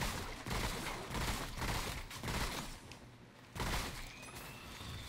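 Enemy gunfire in the shooter game Remnant: From The Ashes, a steady fusillade of overlapping shots in several dense waves with brief lulls, fairly quiet and continuous throughout.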